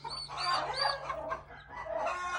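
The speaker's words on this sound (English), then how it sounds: "That's a lost turkey call, but more like, where's mom at?" A sick baby turkey poult giving its lost call, a series of high, close peeping chirps in quick irregular bursts with brief gaps between them.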